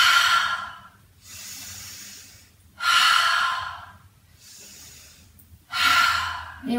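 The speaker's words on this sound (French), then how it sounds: "on va inspirer et expirer par la bouche" Slow yoga breathing, with long airy inhalations through the nose alternating with softer exhalations through the mouth, close and rhythmic over several cycles.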